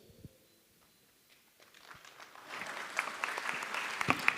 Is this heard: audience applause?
yes